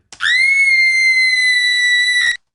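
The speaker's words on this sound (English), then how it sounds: "fisher," A fisher gives a single shrill, sustained scream lasting about two seconds, loud and steady with a sharp start and end, with no other sound around it.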